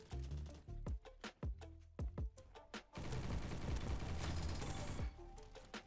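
An Uzi fires in the Roblox shooter Bad Business: several separate sharp shots ring out, then a dense automatic burst lasts about two seconds before trailing off, all fairly quiet.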